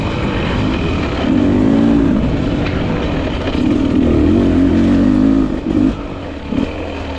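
A 2025 Beta 300RR Race two-stroke dirt bike is ridden off-road, its engine buzzing up and down in pitch through repeated throttle swells, loud and close to the rider with constant wind noise.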